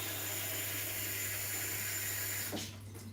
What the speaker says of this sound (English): I'm gonna give them a rinse